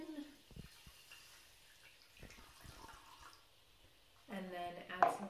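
Two cups of water poured into a bowl of chia seeds, heard as a short, close splashing pour that rises near the end after a stretch of quiet handling noises.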